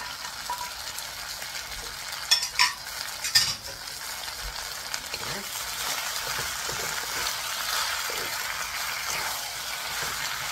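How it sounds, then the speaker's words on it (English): Beef chow fun rice noodles stir-fried in a hot wok with scallion and bean sprouts, a steady broadband sizzle with a few sharp scraping tosses early on, close and alone without talk. "And always, always stir fry it."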